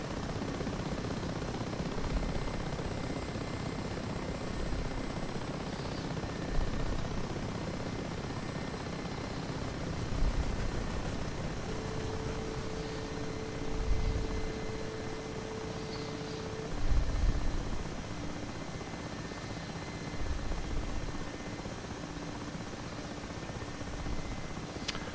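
Mi-8 Hip helicopter engine running while parked on a runway in the DCS World flight simulator, a steady, dense whine and rotor rumble throughout with a faint tonal hum appearing midway.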